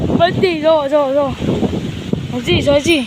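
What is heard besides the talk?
strong wind noise on the microphone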